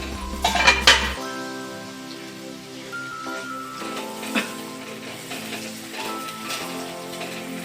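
Okra cooks in a pan on low-to-medium heat for a mustard-poppy seed dish, with a soft steady sizzle under a few sharp metal clinks of a utensil against the pan at the start.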